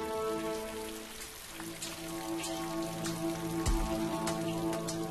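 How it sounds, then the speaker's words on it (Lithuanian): Rain falling steadily in a continuous close patter, with a faint tonal hum running underneath and a single soft thump partway through. "Spiginantį karštį pakeitė lietus."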